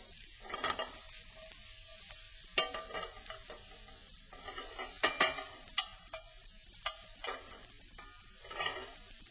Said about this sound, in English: And I'm going to add the wood ear mushrooms at the same time. And we're going to start by sauteing those.